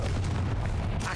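A Confringo fire spell blast in the video game Hogwarts Legacy booms and rumbles with heavy low-end roar, continuous and loud across the whole moment with no distinct pauses.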